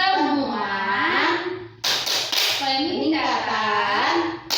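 A group of women claps together in a rhythmic burst of sharp hand claps during a P2K2 family-capacity meeting chant, between stretches of loud sung chanting.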